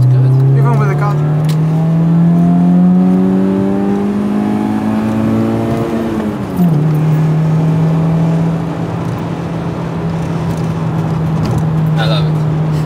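An engine-swapped project truck with the catalytic converter still fitted revs loudly close up, its pitch climbing steadily for about six seconds before dropping sharply and settling into a smooth, even idle.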